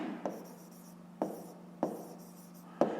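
Pen writing on paper during a 5th-grade square-area math problem: faint scratchy strokes with sharp taps at about 0.3, 1.2, 1.8 and 2.8 seconds, close and quiet, with no talking.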